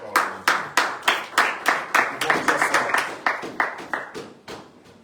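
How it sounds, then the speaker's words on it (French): A church congregation claps in steady rhythmic unison, about a dozen strong beats, loud and close, with a murmur of voices underneath that fades as the clapping slows at the end. "Acclamons pour la parole de Dieu."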